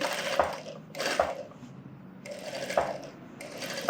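A sewing machine stitches a scalloped blouse design in short bursts, about three runs of whirring needle action separated by brief pauses, close and moderately loud.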